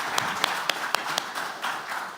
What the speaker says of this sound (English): Can we give an applause to all the panelists?